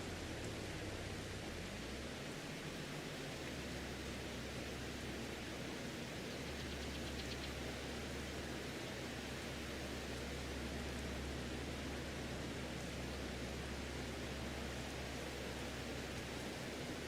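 Steady, even rain hisses in the farming video game Farming Simulator 22, a constant broadband wash with a low rumble beneath and no voices.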